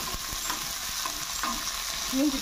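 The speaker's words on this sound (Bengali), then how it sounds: "আমি কাঁকড়াটা ভাজতেছি" Sea crab fries in hot oil in a wok, giving a continuous loud sizzle broken by several sharp scraping stirs, close up and without talk.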